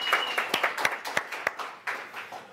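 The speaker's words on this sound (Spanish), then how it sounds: "Un aplauso a don Guillermo Tellier, por favor." Light applause for a guest on a Chilean talk show, a small scattering of distinct hand claps at a fairly quiet level, irregular and sparse, fading over a couple of seconds.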